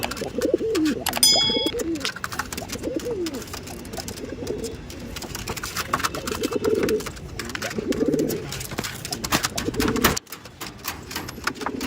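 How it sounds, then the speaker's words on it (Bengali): Several pigeons keep up low, throaty cooing nearby, the calls overlapping in uneven bursts over a rustling background, with a brief higher chirp early on and no speech. "আপনারা পায়রা দেখুন"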